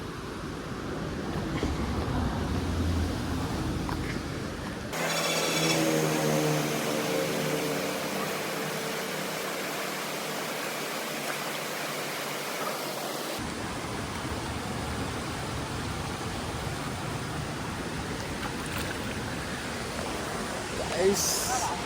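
Rampa waterfalls roar beside the road, a dense steady rush of falling water heard close and loud throughout, with a brief shift in tone partway through.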